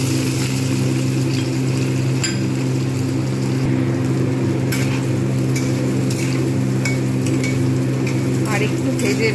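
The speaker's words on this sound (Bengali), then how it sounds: "এবারে কড়াই সয়াবিন অয়েল দিয়ে দিয়েছি, তেলটা একটু গরম হলে পনিরগুলো ভেজে নেব।" Paneer pieces fry in hot soybean oil in a wok, giving a steady loud sizzle and bubbling with a low constant hum beneath and occasional clinks, no voices.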